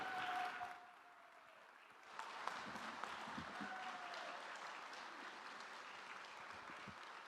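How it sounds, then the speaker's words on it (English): Applause from an audience at a morning session rises after a brief lull and keeps going steadily, a dense patter of many hands clapping in a room. "keep that round of applause going"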